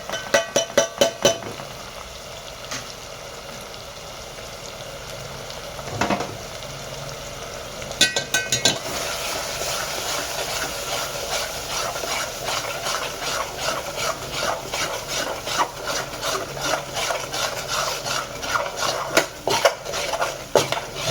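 Spices (garam masala, red chili powder, coriander powder and gravy masala) are stirred into a tomato gravy frying in a pan for a Maharashtrian matki amti. A spoon scrapes and clinks against the pan in bursts over a soft, continuous sizzle.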